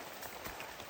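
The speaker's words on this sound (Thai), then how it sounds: "แล้วฝนตก" Steady rain falling, a dense hiss of drops on a surface, brief and fairly close.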